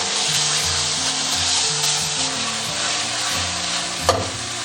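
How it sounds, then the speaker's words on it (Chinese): A chicken thigh fries in a pan over medium-low heat, giving a steady, close sizzle and crackle broken by scraping, rubbing contact from stirring or a spatula, and one sharp knock near the end. "煎这个鸡排火不要开得特别大，就中小火，就是慢慢给它煎，煎至2面金黄"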